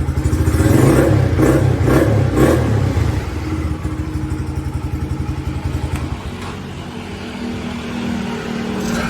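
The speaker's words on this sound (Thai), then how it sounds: "ก็เร่งเร่งเครื่องยนต์ได้เลย" A Honda Sonic 125 motorcycle engine revs hard with a throaty, pulsing roar, then drops back to a quicker, lighter idle chug nearby.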